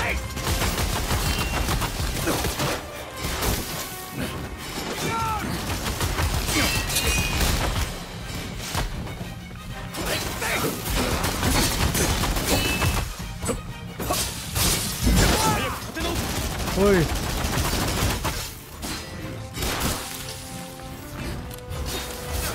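Dense gunfire and machine-gun bursts in the video game Rise of the Ronin, loud and continuous, with crashes, shattering and whooshes mixed in and occasional voices underneath.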